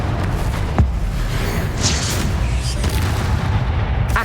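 Booming spell blast from a Confringo cast in Hogwarts Legacy, a sharp burst near the start over constant rumbling combat ambience, with dull impacts trailing after.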